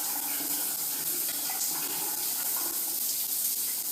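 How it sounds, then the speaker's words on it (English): Water pours steadily from an overhead rain shower head on a Moen ioDigital shower, a continuous even hiss of falling spray with no talk over it. "Show you what the rain shower looks like."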